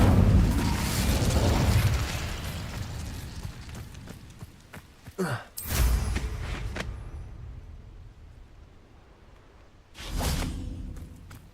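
An Incendio fire spell cast in the Hogwarts Legacy video game, opening with a loud roaring whoosh of flame that fades, followed by a sharp burst and later another roaring flare, all close with no talking.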